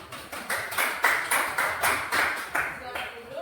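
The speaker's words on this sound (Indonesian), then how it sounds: "berikan tepuk tangan." A small classroom group clapping after a student presentation, roughly a dozen distinct rhythmic claps in fairly regular succession, close and crisp, with a faint murmur of voices underneath.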